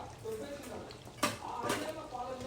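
Spoon stirring eggplant masala curry in a pot, giving soft scraping and stirring with a couple of sharp metallic clinks against the pot, close and fairly quiet.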